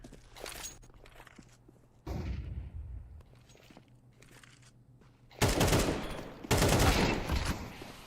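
Pistol shots ring out in a competitive video game match, with short bursts of rapid gunfire separated by quieter stretches of footsteps and ambient game noise.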